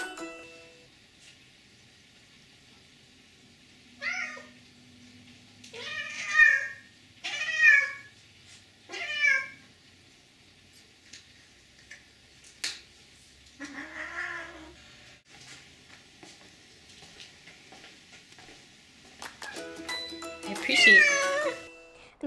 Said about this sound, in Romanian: Hai să vedem imagine cu pisica hoață.